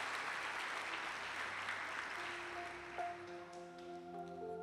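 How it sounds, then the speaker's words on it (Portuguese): Applause for Jesus at a church gathering, a crowd clapping steadily and fairly far off, then fading, as faint tones and a voice rise beneath it. "Vamos dar um aplauso ao Senhor Jesus pela vida dele aí"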